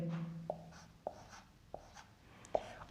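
Pen strokes on paper while numbers are written during a physics numerical, a few short scratchy taps spaced about half a second apart, quiet and close with no talking.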